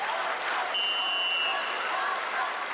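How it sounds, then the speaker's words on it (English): A wrestling arena crowd at the 2001 Senior World Championships, during a 58 kg bout, gives off a steady, distant roar and murmur with a brief high whistle-like tone partway through. "You might have heard the crowd in the background."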